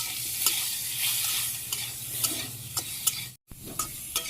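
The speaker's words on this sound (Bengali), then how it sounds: "একটু নাড়াচাড়া করি" Salt, turmeric and chili powder are stirred in a pan of hot oil, a steady sizzle broken by scraping spoon strokes at an even rhythm, close and fairly quiet.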